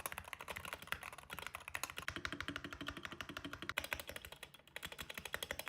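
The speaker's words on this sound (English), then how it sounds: "On the Mad 60, you can really hear the slapping of plastic." Typing on a Mad 60 mechanical keyboard with plastic slapping, dense rapid clacks in an uneven flurry, fairly faint and heard alone.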